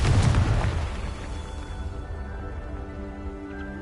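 Confringo spell in Hogwarts Legacy bursting as a loud deep boom at the start, then a fading rumbling tail with a sustained tonal ring over the remaining seconds.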